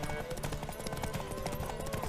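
Roach the horse galloping in The Witcher 3 during a horse race, a fast, rhythmic clip-clop of hooves with a faint whinny, under an excited voice talking over it.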